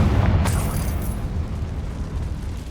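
A Confringo fire spell bursts into an explosion in the video game Hogwarts Legacy: a loud, broadband blast in the first second that rolls off into a sustained rumbling tail with no talking.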